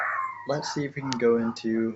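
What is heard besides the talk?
dogs barking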